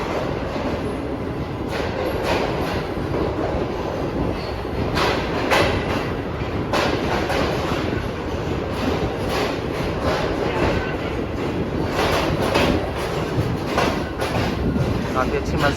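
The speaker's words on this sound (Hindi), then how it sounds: "हमारी ट्रेन नहीं रुकी और चलते चलते जा रही है," A moving Shalimar Express passenger train on the Karachi to Lahore route, recorded from inside an AC Standard coach, with a continuous rumble and a rhythmic clickety-clack of wheels over the rail joints.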